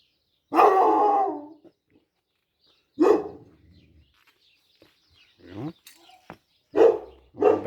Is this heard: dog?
yes